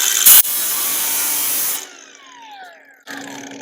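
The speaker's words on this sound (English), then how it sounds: "Give it another little nip with the grinder right here so it doesn't buckle." An angle grinder trims a metal panel on a custom build. A sharp burst comes first, then a loud, steady grind for over a second, a whining spin-down, and another grinding burst at the end.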